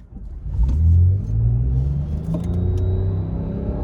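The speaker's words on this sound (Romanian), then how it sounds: "V6-le se aude frumos." A Lexus RX450h F-Sport Plus V6 engine revs up under hard 0-100 acceleration, its rising rumble climbing through gear changes, close and loud inside the cabin.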